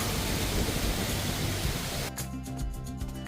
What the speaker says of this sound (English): Yeah, I thought we might get a downpour.